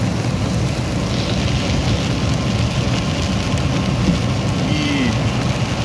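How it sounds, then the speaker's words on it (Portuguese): Steady, dense rain hisses over the low rumble of a vehicle driving on highway BR-277 at night, a continuous wash of noise with no distinct breaks. "Tava precisando muito da chuva e ela chegou."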